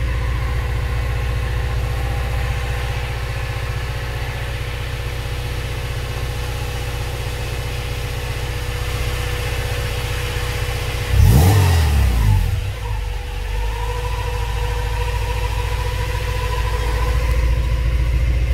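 A stock Honda H22A engine running on a dyno, holding a steady loud drone at part throttle, then a brief rising rev that falls back to the constant hum; no talking.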